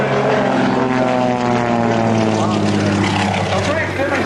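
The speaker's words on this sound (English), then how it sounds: "Frank's demonstrating again just a few warm-up maneuvers, making sure the airplane's ready to rock and roll" A propeller airplane flying warm-up maneuvers at the 2004 Rhode Island Air National Guard open house and airshow, a loud continuous droning engine hum with steady harmonics, and an announcer talks over it.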